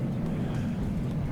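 A MiG-29 jet aircraft in the strategy game WARNO drones with a low, steady engine rumble, brief and constant without any obvious pass-by.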